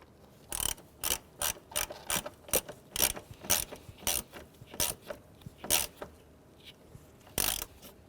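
Quick bursts of ratchet clicking as a bolt is threaded into a 10mm nut behind the coolant reservoir of a 2003-2011 Honda Element, short regular strokes with brief pauses, close and clear.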